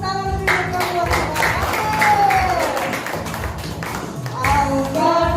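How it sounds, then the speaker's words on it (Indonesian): A church congregation at a Sunday worship service claps along throughout, a dense steady patter of many hands under loud music and a voice leading the room. "Yang siap, mari tepuk tangan lebih meriah buat Tuhan."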